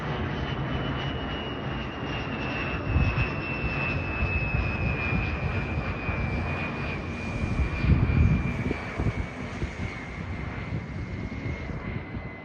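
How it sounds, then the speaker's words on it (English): Jet airplane turbofan engines roar overhead near Whiteman Air Force Base in a steady, broad rumble with a high whine sliding slowly downward as the aircraft passes; no voices. "Those turbofan engines are pretty cool."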